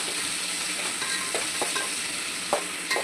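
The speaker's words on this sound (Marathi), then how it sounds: "कांदा आपला मस्त असं शिजवून घ्यायचा" Chopped onion with salt cooking in oil in a pan gives off a steady, moderate sizzle, with a few soft spatula scrapes and clicks scattered through it and no voices.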